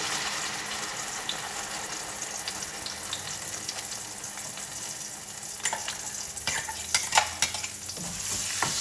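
Ginger, green chilli and tomato paste sizzling in hot oil in a home kitchen, a steady frying hiss with stirring scrapes and a few louder clinks toward the end, fairly close and without talk.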